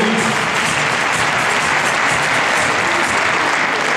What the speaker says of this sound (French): Et un tonnerre d'applaudissements à nouveau pour Jeanne Lemans et Coco.